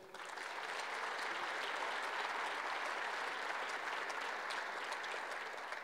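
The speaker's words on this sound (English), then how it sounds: "let's give a great round of applause to our great chairman of the NGA, Governor Hogan" Audience at a National Governors Association winter meeting applauds Governor Hogan, the chairman, with steady, sustained clapping throughout, fairly distant and evenly spread across the room, no voices on top.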